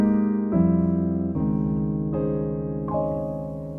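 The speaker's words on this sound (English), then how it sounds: "that is the sound of a major 7 sus2 chord" A major 7 sus2 chord on piano rings out, struck once and then followed by four more separate notes or re-struck chord tones, each decaying softly and sustaining into the next, close and alone.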